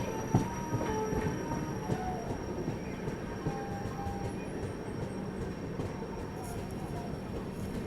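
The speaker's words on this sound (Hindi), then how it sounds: "फाइनली कच्चीगुड़ा स्टेशन में हमारी एंट्री हो रही है एक लंबे इंतज़ार के बाद।" Kongu Express train rolling into Kacheguda station in Hyderabad, a loud continuous rumble of wheels on track with squeals and clanks heard from on board, background voices faint.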